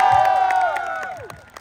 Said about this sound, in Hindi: जोरदार तालियां पापा के लिए।